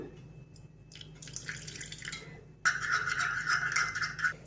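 Lukewarm water pouring into yeast for batter, a soft trickle at first, then a louder steady splashing stream close by, with no talk over it.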